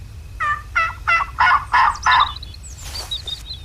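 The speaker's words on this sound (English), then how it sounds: "As soon as I hit that gobble call, he sounded like he was right over there." A wild turkey gobbles in a Texas-map hunting video game: a close, loud run of about six rapid rising calls, followed by a fainter, rattling gobble. No voices are heard.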